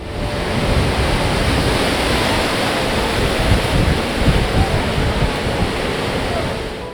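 Sea waves surge into the flooded Ayetoro community in Ilaje, a constant loud roar of rushing surf and water mixed with wind buffeting the microphone.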